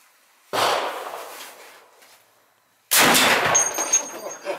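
Two sharp, very loud reports from a Serbu BFG-50A .50 caliber rifle fired outdoors, each blast followed by a long decaying echo.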